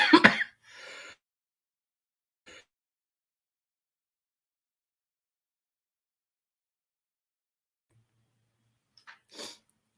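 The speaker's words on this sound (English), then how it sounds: "I have to cough" A sharp, loud sneeze-like burst of throat clearing close to the mic opens, followed by short breathy coughs and a final throat clear after long stretches of near silence.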